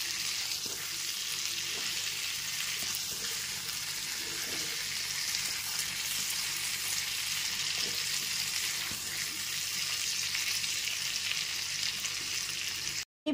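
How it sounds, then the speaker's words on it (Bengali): Pointed gourd pieces coated in salt and turmeric frying over a medium gas flame, a continuous even hiss of oil with occasional light stirring ticks, close and moderately quiet, with no voices. "একটু সময় নিয়ে ভেজে নেব"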